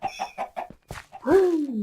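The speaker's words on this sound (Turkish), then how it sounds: "Tavuk sesleri." Chickens cluck in the Minecraft video game, a quick run of short clucks followed by a longer, drawn-out squawking call, close and clear with no talking over it.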